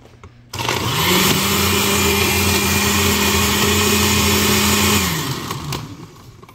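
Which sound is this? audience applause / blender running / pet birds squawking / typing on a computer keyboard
blender running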